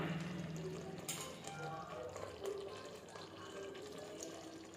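Water pours steadily into a pot of Dindigul-style mutton biryani masala, with mutton cooked through in oil, over a high flame. A continuous rushing splash runs the whole time at moderate loudness.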